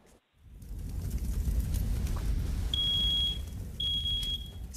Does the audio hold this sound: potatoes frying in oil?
no